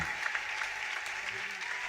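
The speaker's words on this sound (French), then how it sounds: "Applaudissez très fort." A church congregation claps steadily and loudly throughout, a dense continuous applause filling the room with no pauses.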